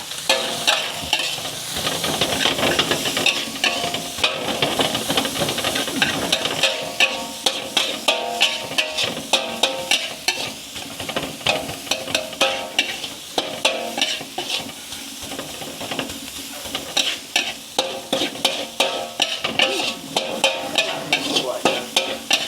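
Pork stir-fries in a pan, with a continuous sizzle under repeated scraping and clacking of a utensil against the pan in an uneven, busy rhythm, close and fairly loud.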